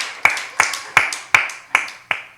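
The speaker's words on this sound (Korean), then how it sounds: "우리 주님께 영광 박수 올려드리시겠습니다." A church congregation at a Sunday morning worship service gives the Lord an offering of praise applause: six sharp claps in unison, spaced at a steady, brisk rhythm and fairly close.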